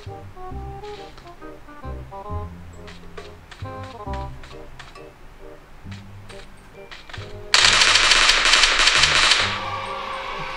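PUBG Mobile gunfire, a run of rapid sharp shots in irregular bursts over steady game ambience, followed by a loud hissing noise burst near the end.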